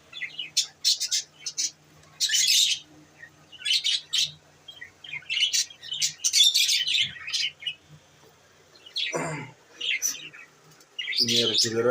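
Several pet birds, a breeding pair of brightly coloured cage birds among them, chirp and tweet in repeated high bursts, close by, with a few lower squawks near the end.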